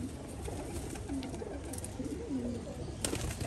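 Pigeons coo softly in a series of low, rounded calls, fairly near but quiet against a faint steady background hum, with no voices.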